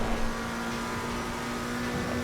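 Old McLaren race car engine in a racing video game, a steady high-pitched droning whine held at constant revs, loud and continuous with no talk.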